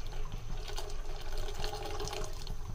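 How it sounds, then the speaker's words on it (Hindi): Cold water pours steadily into a pot of Kashmiri pink chai in a kitchen, a continuous splashing gush that holds at an even level throughout with no voices. "ये देखे, मैंने ठंडा पानी ऐड कर लिया"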